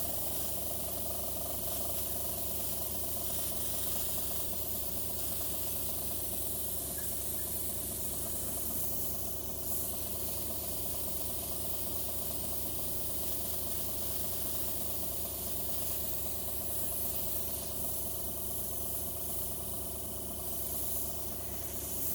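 A continuous airbrush hiss sprays paint onto ceramics steadily with no pauses, a soft broadband rush over a low mechanical hum from a nearby compressor.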